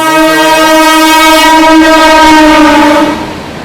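The Howrah–Mumbai Duronto Express passes close by, its loud, sustained horn blaring steadily over the rumble of the train for several seconds before easing off.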